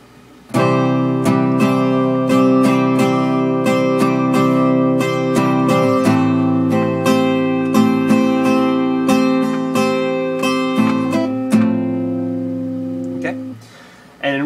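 Acoustic-style guitar strummed slowly through the Kaleidoscope rhythm by Joe Brooks, with distinct down and up strokes spaced out at a relaxed pace, each strum ringing clearly, close and alone.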